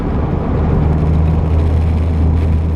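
A Citroen CX diesel car cruises near 60 mph in fourth gear, its engine a steady low droning hum at low revs under road and wind noise, continuous and fairly loud.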